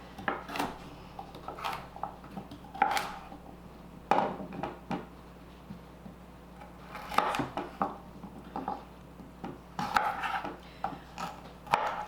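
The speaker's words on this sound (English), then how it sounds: "I'm gonna start chopping these up" A knife chops carrots into small dice on a cutting board, irregular bursts of close taps and scraping knocks separated by brief pauses, with faint kitchen rustling between.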